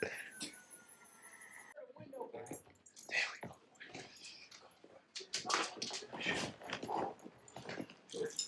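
A dog whimpers and yips in a scene from the film Synchronic, with faint, intermittent high whines mixed with other film sounds and talk.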